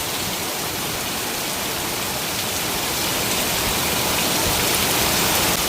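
Heavy rain pours steadily in a dense, loud hiss, its intensity rising slightly over a few seconds, with no other distinct sounds standing out.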